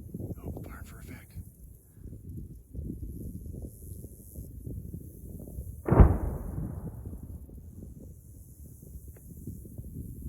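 Far-off artillery shells impact near a military range's impact area during an outdoor elk stalk, one sharp boom rolling out midway and echoing away over steady wind buffeting the microphone.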